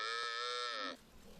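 Dairy cows moo at a cow and goat farm in Rason, one long sustained low moo close by, followed by faint outdoor background.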